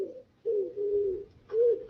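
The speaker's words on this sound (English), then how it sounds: "Just birds, mate, just birds." Pigeons or doves cooing in a short series of low, soft calls, three phrases separated by brief pauses, fairly near and alone with no talking.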